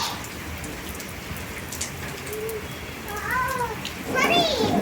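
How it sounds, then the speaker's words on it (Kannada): Steady rain patters in a continuous wash, with children's voices and brief cries rising toward the end. "ಈಗ ಮಳೆ ಸ್ಟಾರ್ಟ್ ಆಗ್ಯದ"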